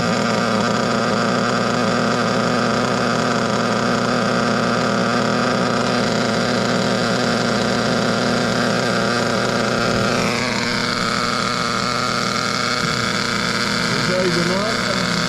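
RB C5 Rody moped engine running at a steady, loud idle, a continuous buzzing drone with a slight shift in pitch partway through.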